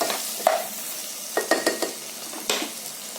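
A spoon stirs tomatoes with salt in a frying pan, making a series of scraping strokes with uneven rhythm over a low sizzle.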